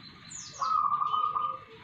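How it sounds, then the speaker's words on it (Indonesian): A zebra dove and a white-eye call nearby: a high chirp followed by a sustained tonal whistle, clear and alone against a quiet background. "itu kedengaran ya guys suara perkutut saya dan suara pleci saya yang lagi nembak"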